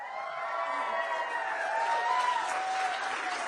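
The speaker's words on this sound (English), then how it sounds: "Hear that, Mr. President? I was cheering pretty loud for you." Crowd at a primary night campaign rally cheering and applauding, a steady dense wash of clapping and whoops from a large indoor audience, sustained and fairly far off, with no speech over it.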